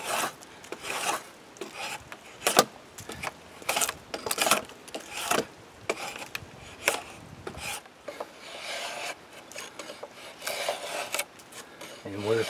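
Bark peels off a stick held on a wooden shaving ladder in the woods, a series of close, rough rasping scrapes in irregular strokes, moderately loud.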